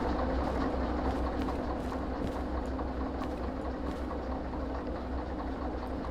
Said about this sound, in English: So this is my train for the day